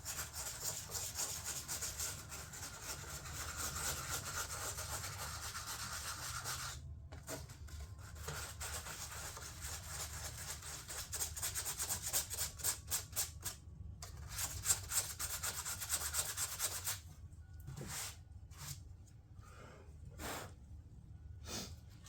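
Partly cured filler on a fiberglass door panel is shaped by dragging a tool across it, producing close, repeated scraping and rubbing strokes with brief pauses between passes, the strokes growing sharper and choppier toward the end.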